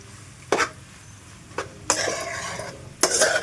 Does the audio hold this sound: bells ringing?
no